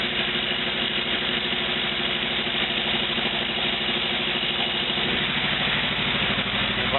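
A 1949 Willys jeep fitted with a replacement used engine idles steadily after starting, a loud, close, even mechanical chug with a rhythmic low pulse and faint knocking, running alone without talk.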